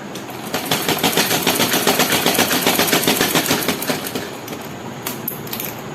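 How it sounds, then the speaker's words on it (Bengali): A sewing machine stitches a black designer blouse in a fast, steady run of close, even needle strokes that ease off slightly toward the end, loud and alone. "এইভাবে এটাকে আমি পুরোটা সেলাই করে নিচ্ছি।"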